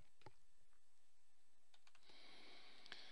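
Faint clicks of a computer mouse sound close up in a quiet room, a few sharp isolated taps spread across a few seconds, with a soft hiss in the background.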